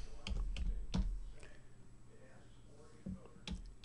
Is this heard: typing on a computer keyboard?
yes